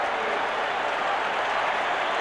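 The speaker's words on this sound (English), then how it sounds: "And you hear the fans in the background, something to cheer about" A football stadium crowd at a 1982 Falcons at Saints game in New Orleans roars in a loud, continuous wash of cheering and applause with no break.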